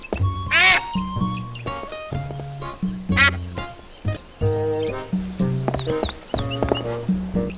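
Cartoonish duck quacking in the Monkey Island adventure game, repeated nasal quacks in an uneven rhythm over a bouncy game tune, close and clear.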